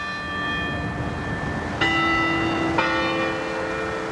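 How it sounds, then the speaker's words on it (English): A church-style bell in the DePauw University bell tower rings two clear, resonant strikes about a second apart, each hum lingering and layered over the tail of an earlier toll, with no talk. "perhaps the bell tower at DePauw University made Margaret Thatcher feel right at home"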